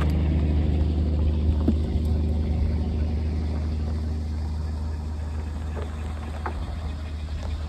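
A vehicle engine rumbles steadily as it drives out of a hill on ActionTrax recovery boards, a constant low drone heard alone without talk.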